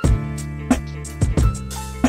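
Chopped sampled beat intro with the snare and rim shot cut out, tonal music stuttering in short repeated slices separated by abrupt edits and brief percussive thumps, no voices.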